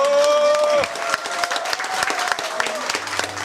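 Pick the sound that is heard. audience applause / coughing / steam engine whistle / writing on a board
audience applause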